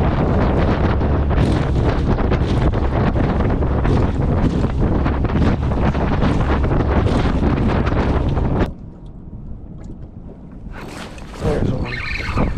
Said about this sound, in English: Try to get out of the wind.